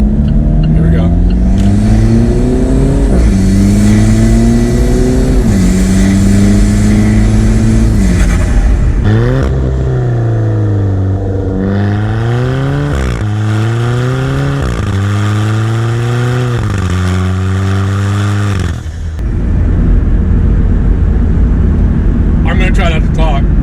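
An Alfa Romeo 4C sports car engine revs hard through several rising gear pulls, each climbing pitch then dropping at the shift, loud and close, with a voice speaking over parts of it.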